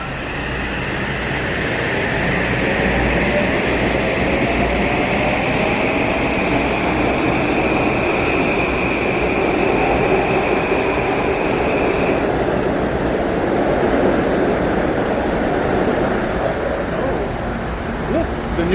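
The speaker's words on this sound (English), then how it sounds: "It's going to be a 3-car locomotive hauled train, and it runs along the river for most of it, for about an hour." A three-car locomotive-hauled train on the Waterbury Branch rumbles steadily throughout, with a sustained tonal whine that fades about two-thirds through, while faint voices murmur in the background.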